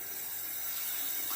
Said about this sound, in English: I'm going to rinse the razor now.